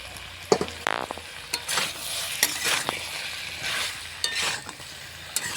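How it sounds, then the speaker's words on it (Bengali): Cut eggplant and slit green chillies stir-fry in hot oil alongside potatoes and pumpkin, a steady close sizzle broken by repeated scraping stirs of a spatula against the pan, with no talk. "কিছুক্ষণ নাড়াচাড়া করার পরে দিয়ে দিচ্ছি কেটে রাখা বেগুন চেরা কাঁচা লঙ্কা"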